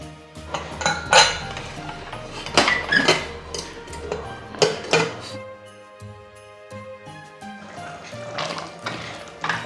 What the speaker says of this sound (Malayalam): കുക്കർ അടച്ച് നമുക്കിത് വേവിക്കാം